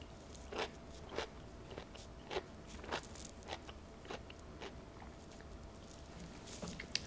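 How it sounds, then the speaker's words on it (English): Crunchy bites into a thin Grillo's dill pickle spear, about nine sharp crisp crunches spaced roughly evenly, close up and fairly quiet with no talking. "it's one of the crunchier pickles that I've tried"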